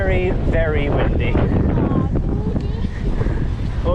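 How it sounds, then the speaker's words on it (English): Strong, steady wind gusts roar across the microphone while bikepacking along the Hadrian's Cycleway toward the coast, with people talking over the continuous rushing noise. "You can probably hear the wind conditions. It is very, very windy."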